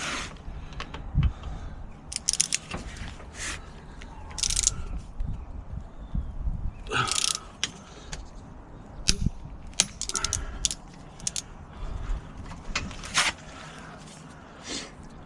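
Wheel bolts on PCD wheel adapters are torqued with sharp metallic clicks, clanks and ratcheting knocks in irregular bursts, close by, with brief quiet gaps between them.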